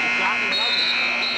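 A long electronic buzzer sounds in a high school basketball gym at the end of a quarter, a loud steady tone held for over a second while a commentator talks over it.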